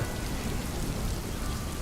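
Steady rain falls on a surface, a dense continuous patter with faint low thunder rumbling beneath, fairly loud and uniform throughout, no talking.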